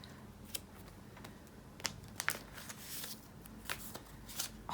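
Filler cards being pulled out of photocard packaging: quick, scattered crisp rustles and slides of card and plastic, close and fairly soft, coming in irregular bursts with short gaps, with no one talking.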